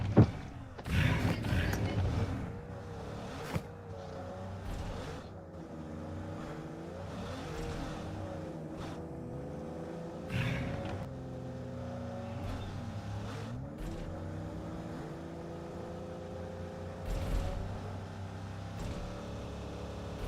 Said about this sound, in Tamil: முன்னாடி வண்டி வருது.